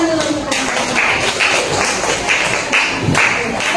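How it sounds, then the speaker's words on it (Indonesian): Classroom applause from a group of students, a continuous wash of clapping with a few sharper claps standing out and faint voices mixed underneath. "tepuk tangan dulu"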